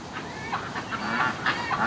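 Several ducks call in a loose string of honking, nasal quacks, fairly near and moderately loud, with some calls overlapping against a soft outdoor background.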